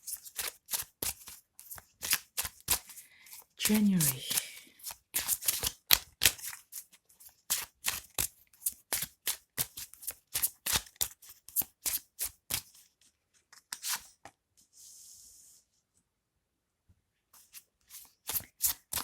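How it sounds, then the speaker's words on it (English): Repeated bursts of tarot cards being riffled and bridged, a steady run of crisp flutters with short pauses between shuffles, close and clear, no talking. "I'm gonna shuffle, so bear with me while I shuffle"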